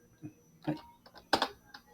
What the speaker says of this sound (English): I don't know why I can't write normally with the keyboard.